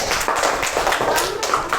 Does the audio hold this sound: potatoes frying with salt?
no